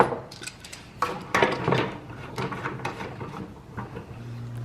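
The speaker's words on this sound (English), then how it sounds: "Clamp this down just so it stays put." Metal clamp tightened down on a workpiece during a van build, with a series of close clanks, rattles and ratcheting clicks in irregular bursts, ending in a low steady hum.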